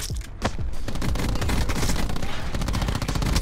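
Rapid hip-fire gunfire from a Saug submachine gun in a first-person shooter game, dense continuous bursts of sharp shots close and loud throughout.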